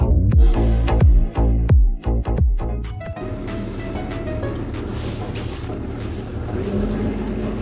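A motorhome's large 6.7-liter engine cranks in a few sputtering bursts, then catches and settles into a loud, steady rumbling idle.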